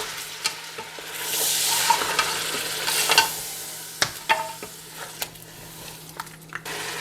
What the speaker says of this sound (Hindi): इन सब चीज़ों को 10 मिनट तक भूनेंगे।